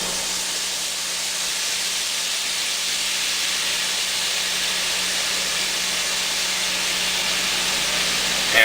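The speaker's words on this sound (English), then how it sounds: "now we're going to deglaze it with some cheap balsamic" Cheap balsamic vinegar hits a hot pan after braised beef ribs come out, giving a loud, steady, broadband steam hiss that holds evenly throughout with no talking.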